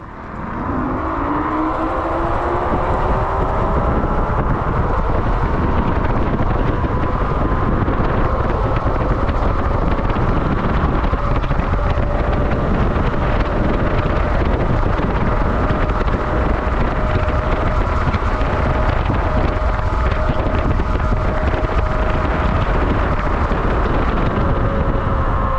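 A Hiley Tiger King off-road electric scooter with two 1500 W motors, a 60 V battery and an 80 km/h top speed, ridden flat out in fifth gear. A steady motor whine rises in pitch under heavy, continuous wind roar for the whole run.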